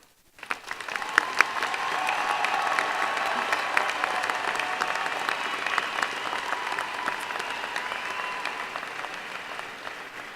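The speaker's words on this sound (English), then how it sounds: "Please join me in applause." A large crowd bursts into sustained applause, steady clapping that continues at an even level throughout.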